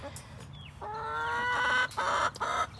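Backyard chickens cluck close by in a quick, uneven series of calls that run for a few seconds with short pauses, with no talking.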